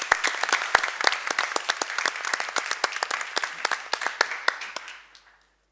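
Audience applause at a high-level hydrogen policy conference: steady, dense clapping from a room of attendees, fairly loud and continuous, then quickly tapering off and fading to silence near the end.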